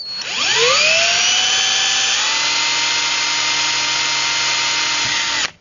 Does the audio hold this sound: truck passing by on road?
no